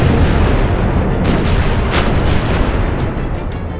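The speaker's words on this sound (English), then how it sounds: "At 5:27, the bombardment began." Naval gunfire from scores of warships shelling the Normandy coast from about six miles offshore at dawn, a dense continuous rumble of heavy booms with a few sharper blasts standing out, loud throughout with no talk.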